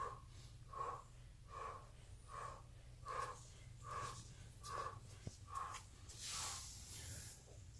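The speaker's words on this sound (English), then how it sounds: "And you want to keep breathing." Rhythmic breathing during a Systema stretching exercise, a run of about nine evenly spaced, close, soft breaths with a breathy hiss, then a longer exhale at the end.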